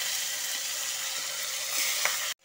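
Cumin seeds, dry red chillies and slit green chillies sizzle in hot leftover fish-frying oil, a steady hissing crackle with a few small pops before cutting off abruptly.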